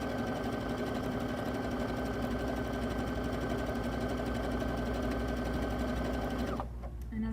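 A sewing machine with a guiding foot stitching decorative threads runs in a loud, steady, close whir for several seconds, then stops abruptly near the end.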